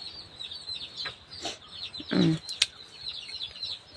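Chickens give several scattered clucks, with a louder, longer cluck near the middle and a brief flutter of wings, close by against soft birdsong, with no talk.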